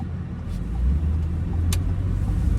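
A car floors it through traffic, its engine a loud, close, low rumble that swells and holds steady, with faint tire and road noise and a brief sharp click partway through.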